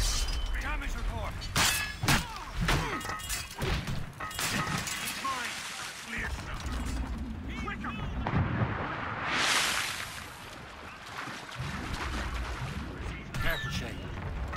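Mortar fire and shattering impacts in a naval battle in Assassin's Creed Rogue, with loud repeated booms and crashing debris over rushing water, mixed with frequent shouted voices throughout.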